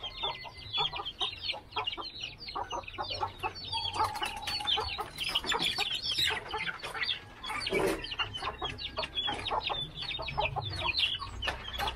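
Chickens cluck busily at feeding time, with dense overlapping clucks and short calls close by, continuous throughout; no talk is heard.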